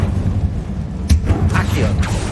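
A Confringo blasting spell goes off in Hogwarts Legacy, giving one sharp, loud burst over a steady rumbling game soundscape, followed by softer crackles and whooshes as the effect fades.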